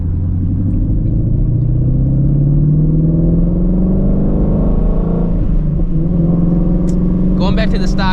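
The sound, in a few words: Shelby GT350 engine during no-lift-shift hard pulls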